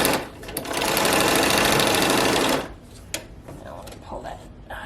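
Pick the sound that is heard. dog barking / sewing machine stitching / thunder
sewing machine stitching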